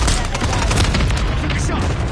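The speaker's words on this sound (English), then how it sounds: "Friendly mortar strike on the way." Mortar strike explosions in Modern Warfare 3, rendered as dense, rapid booms and crackling blasts overlapping in a loud, continuous barrage, with faint voices underneath.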